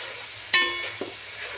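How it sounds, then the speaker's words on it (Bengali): Aromatics with ginger-garlic paste frying lightly in oil, a soft steady sizzle interrupted by two quick metallic clinks of a spoon against the pan. "এগুলি হালকা করে ভেজে তারপরে মাছটা ঢেলে দেবো।"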